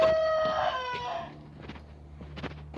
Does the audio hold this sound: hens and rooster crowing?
yes